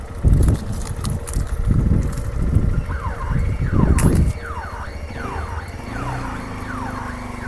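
Motorcycle alarm going off, starting with a few loud low thumps and then repeating rising and falling electronic sweeps that carry on steadily, close by with no talk.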